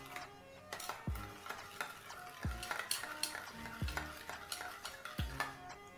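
Red chili powder, turmeric and salt being stirred in a frying pan for an eggplant dish, a spoon scraping and clinking against the pan about four times over a continuous sizzle, close up.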